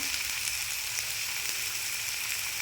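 Salt and turmeric frying in a covered pan, a steady soft sizzle running evenly throughout with no voices.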